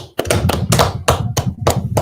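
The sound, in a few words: congregation clapping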